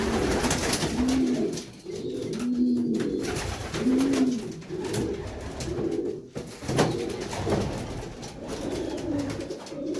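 Young racing pigeons in a breeding colony cooing, a series of low, rounded coos repeating every second or so, close and moderately loud over a rustling background.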